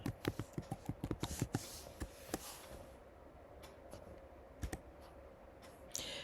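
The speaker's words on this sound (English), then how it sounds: "do a search and type in Joseph" Quick bursts of computer keyboard typing, close and fairly quiet, with clustered key clicks early, then a few isolated taps after a pause.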